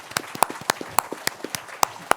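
A handful of separate, sparse claps ring out at irregular intervals after a podcast guest is introduced, each one sharp and close, with nothing in between.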